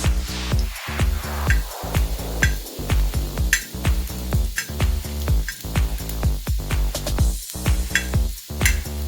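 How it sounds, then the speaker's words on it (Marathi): Lump of asafoetida frying in a pan of hot oil, a steady sizzle broken by repeated sharp clinks and scrapes of a spoon stirring against the metal pan, close and busy throughout. "थोडेसे आपल्याला त्याला फ्राय करून घ्यायचे आणि हा हिंगाचा खडा हा घालून घ्यायचा"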